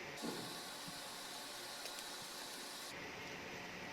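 Paneer frying in hot oil in a pan, a steady close sizzling hiss that stays even throughout before dropping slightly in brightness near the end, with no voices.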